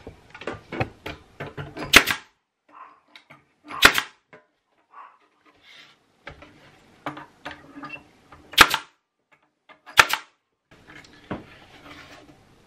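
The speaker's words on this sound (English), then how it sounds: "Now I'm going to use my air compressed staple gun" Air-compressed staple gun driving staples into wood while building an oversized footstool, a handful of sharp, loud snapping shots spaced several seconds apart, with quieter handling knocks and shuffling between them.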